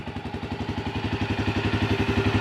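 A Yamaha Grizzly 300 ATV engine fitted with a Chinese aftermarket carburetor idles steadily up close, a loud, even mechanical putter with a regular pulsing beat and no voices.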